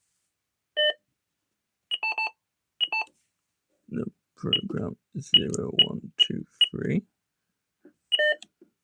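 ADE Optima Mk7 burglar alarm panel keypad gives short, bright beeps in separate bursts while being programmed, with speech in the middle and more beeps near the end.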